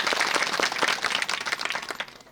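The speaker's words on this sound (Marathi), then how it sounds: "मला वाटतं महाराजांच्या करता सर्वांनी टाळी वाजवा." An audience at a kirtan, a Marathi devotional gathering, claps in dense, steady applause that fades slightly toward the end, loud and close with no talk over it.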